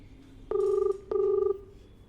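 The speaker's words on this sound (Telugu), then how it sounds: "ఒకసారి ఫోన్ చేయండి మీరు" A phone ringback tone sounds twice, two steady buzzing rings separated by a short pause, heard clearly through a speakerphone with no talking.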